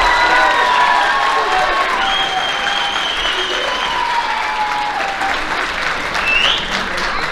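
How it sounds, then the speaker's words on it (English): A crowd at a high school athletic banquet gives a loud, sustained round of applause, dense clapping mixed with some cheers and voices throughout. "Let's give him a round of applause."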